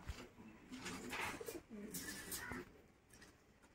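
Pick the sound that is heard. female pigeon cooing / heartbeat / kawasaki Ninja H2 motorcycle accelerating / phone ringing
female pigeon cooing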